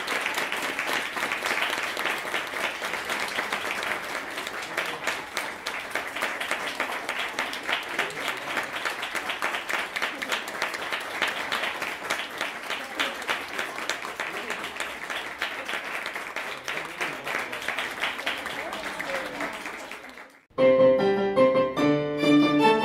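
Sustained applause from an audience after a student violin recital, steady and fairly loud for about twenty seconds before breaking off into a different sound at the end.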